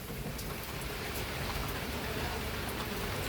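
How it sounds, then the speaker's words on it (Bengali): Steady rain pours down in a green village, drumming on surfaces as rainwater is collected in a drum; a dense, continuous hiss with scattered drops, no voices. "এই যে বৃষ্টির পানি ড্রামে রাখতেছে"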